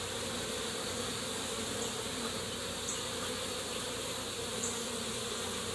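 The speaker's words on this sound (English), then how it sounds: "there's a bunch of bees still in there" Bees buzz in a steady, dense drone that fills the whole clip, close and continuous with no voices.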